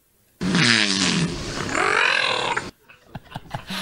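A whale trained to imitate human counting gives a loud, drawn-out tonal vocalization with shifting pitch lasting about two seconds, followed by faint clicks and rustling.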